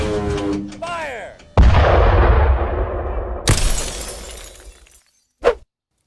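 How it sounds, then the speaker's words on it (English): A tank cannon fires a shell with a heavy, booming blast that rumbles away, followed by a sharp shattering crack and a brief high burst, with speech before the shot. "You can even hit them with a tank shell!"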